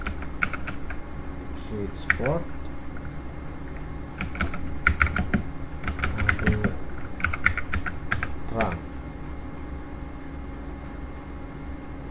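Keystrokes tapping out switch port commands on a computer keyboard come in short bursts of quick, close clicks, with pauses between bursts, under a man's speech.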